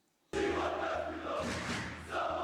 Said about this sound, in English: the crowd could not be more excited by it